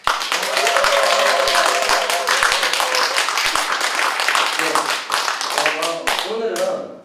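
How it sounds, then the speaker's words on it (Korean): Seminar audience clapping steadily for about seven seconds, many hands at close range with a few sharp individual claps standing out, with voices and cheering mixed in throughout. "여기 계신 분들 박수와 함성으로 진행하겠습니다."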